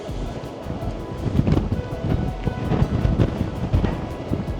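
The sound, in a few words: strong wind at Castlebay, Barra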